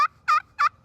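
A turkey call imitates an excited gobbler-rousing sequence, cut combined with yelp: three sharp, evenly spaced, loud yelping notes, close and alone.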